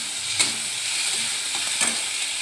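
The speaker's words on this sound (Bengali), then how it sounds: "এবার আদা রসুনের পেস্ট দিয়ে দিচ্ছি। এবার এটা ভালো করে কষানো হচ্ছে।" Ginger garlic paste sizzles in a hot pan while a spoon stirs it, giving a close, steady frying hiss broken by a couple of sharp scrapes.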